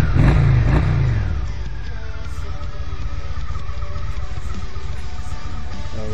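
A Honda Shadow 750 motorcycle engine revs hard at the start, its pitch falling as the throttle eases, then settles into a steady, loud, close-up running idle with a continuous rumble.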